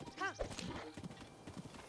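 Epona, a horse in Zelda: Breath of the Wild, lets out a short whinny, then gallops on with a quick run of clip-clopping hoofbeats at close range. A voice can be heard faintly over the hooves.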